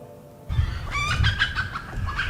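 Feral red jungle fowl roaming the small town of Fitzgerald give a brief burst of clucking and squawking calls close by over a low rumble of background noise.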